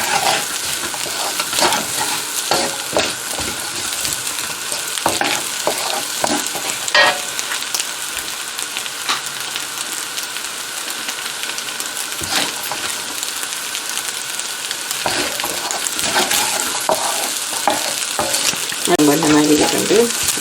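Chicken 65 fried rice is stir-fried in ghee, oil and butter, a loud, steady sizzle broken by repeated clattering scrapes and tosses of a spatula against the pan, with nobody talking.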